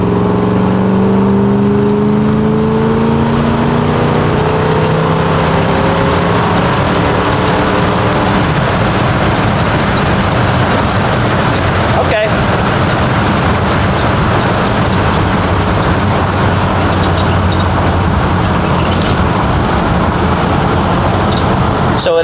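A carbureted car engine revving at wide open throttle, a loud, strained roar that climbs in pitch early and then holds a sustained heavy drone for over twenty seconds, with no talking.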